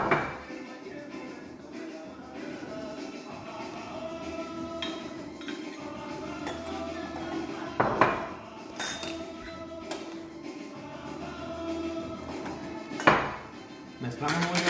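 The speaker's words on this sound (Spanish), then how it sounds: "Mezclamos muy bien mezclado." A tequila and pineapple juice cocktail being stirred, with soft rhythmic clinks and scrapes of a spoon against glass and a few louder knocks, under a person talking.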